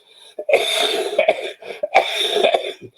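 A man coughs twice in quick succession, close to the microphone, with short harsh bursts separated by a brief gap and no speech.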